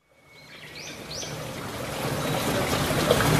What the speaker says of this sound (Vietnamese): Giọt nước nó nhỏ, giọt nước nó nhỏ.